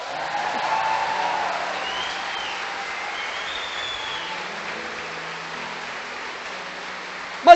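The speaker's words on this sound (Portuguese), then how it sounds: "Aplauda o Senhor." A church congregation claps together in sustained, dense applause that holds steady, a broad wash of hand-clapping from the whole crowd with no one speaking over it.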